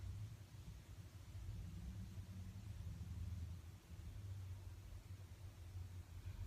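A car drives by outside with a low, steady engine rumble, faint and fairly distant, rising gently and fading across the stretch.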